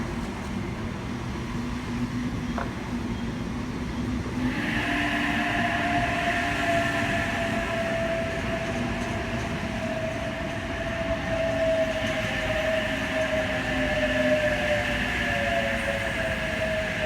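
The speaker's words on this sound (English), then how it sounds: "We've got an Oscar approaching platform 3, H31 leading." An Oscar set Sydney Trains electric train, H31 leading, pulls into platform 3 at Penrith, rumbling steadily before a rising motor whine and squealing tones grow as it approaches and slows alongside.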